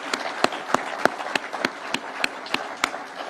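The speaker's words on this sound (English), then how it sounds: "please let us clap for those great people" Audience clapping at a Kenyan political speech event, heard as evenly spaced sharp claps in a steady rhythm, moderately close over a soft crowd background.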